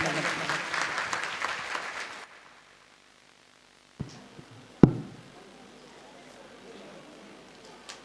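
A crowd at a Sahu community Karma Mata Jayanti celebration in Bakali, Kurud, applauds in a short, hearty burst lasting about two seconds. Quiet follows, broken by a few sharp knocks and thumps nearby.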